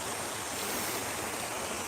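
Flowing water outdoors, a steady broadband rushing and splashing that stays even and fairly loud throughout, with no talking.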